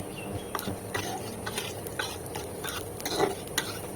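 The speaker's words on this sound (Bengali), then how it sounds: "ওই তেলে হচ্ছে কালো জিরে আর শুকনো লঙ্কা ফোড়ন দিচ্ছি" Black cumin and dried red chillies crackle in hot oil left over from frying potatoes, with faint sizzling under a string of sharp ticks and stirring clinks spaced at a steady rhythm.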